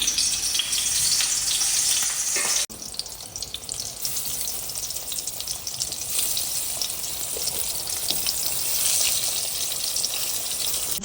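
Eggplant slices fry in a pan with a steady, close sizzle that drops briefly and then continues evenly.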